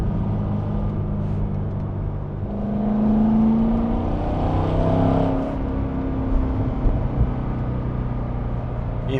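A Chevrolet Corvette C6 with a 400-horsepower naturally aspirated American V8 drones steadily, then swells as the throttle opens midway, its deep rumble rising in pitch before settling back to a rough, throbbing idle.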